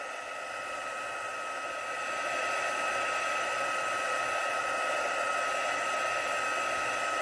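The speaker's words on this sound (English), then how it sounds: "I will get my heating tool and just dried up a little bit faster so that I can finish making this card" A heat tool blows a constant loud whoosh over a watercolour card, drying the paint with a steady close roar that swells slightly after the first few seconds.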